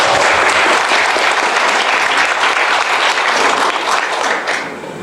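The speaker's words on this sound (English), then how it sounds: "give yourself a round of applause." Sustained audience applause, loud and dense throughout, fading slightly in the last second.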